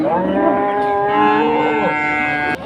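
A cow at a bustling cattle market in Haranokhola, Pabna gives one loud, drawn-out moo lasting over two seconds, close by and clear above faint crowd murmur.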